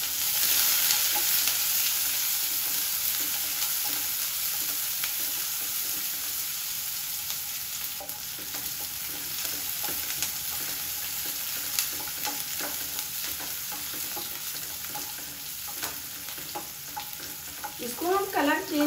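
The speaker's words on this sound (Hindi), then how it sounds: "अब हम इसमें प्याज डाल देंगे कटा हुआ" Chopped onion sizzles steadily in hot oil with spice masala while being stirred in a pan, a continuous close frying crackle with occasional scraping of a spoon.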